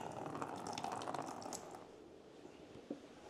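Motorcycle engine coolant drains into a catch container during a water pump cover job, a steady liquid splash and trickle that is fairly loud at first and then fades to a quieter flow.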